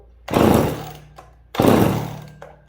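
A McCulloch chainsaw is pull-started twice, each yank giving a loud rasping recoil burst that fades without the engine catching, followed by a short rattle.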